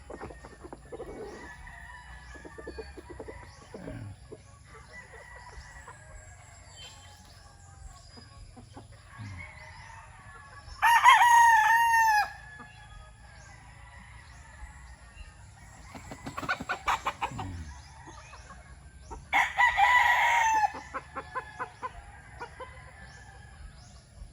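Chickens on a poultry farm cluck and call softly throughout, with a few loud rooster crows standing out near the middle and toward the end, and no talking.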